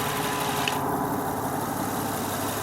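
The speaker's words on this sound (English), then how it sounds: "Car is started, and I did top off the transmission fluid." Honda Odyssey engine idling after a transmission cooler line replacement, a steady low rumbling hum with faint vibration, close and continuous, no voices.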